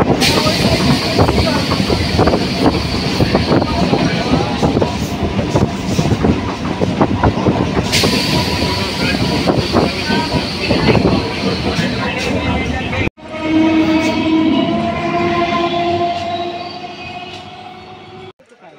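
An almost empty local train pulls out and runs along the line, with a loud continuous rumble, rapid clickety-clack and rattling carriage noise heard from on board, then a quieter whining stretch near the end. People talk faintly in the background.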